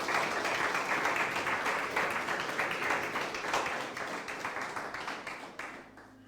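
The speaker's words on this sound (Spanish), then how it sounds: "Denle ese aplauso fuerte al Señor." A church congregation applauding during a Spanish-language service, sustained clapping from many people that slowly tapers toward the end.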